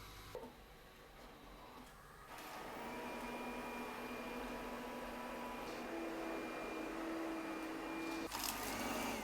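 A Redmond robot vacuum hums steadily while mopping after a brief click, its motor whirring with a faint high whine, then a short clunk near the end.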